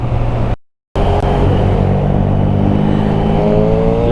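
A motorcycle engine revs loud and close, holding a dense, steady roar. It cuts out for a brief gap and then climbs again with a rising whine. Nobody speaks over it.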